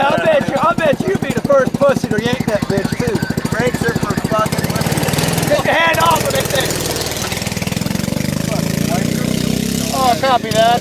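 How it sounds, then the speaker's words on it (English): An engine runs loud and steady with a rapid, pulsing chug throughout, while someone talks over it. "There's an engine running and stuff."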